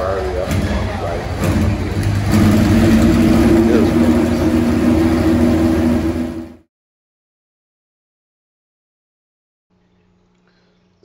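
A Ferrari Formula One racing car engine running loud and revving for about six seconds under a voice, then cutting off abruptly into silence.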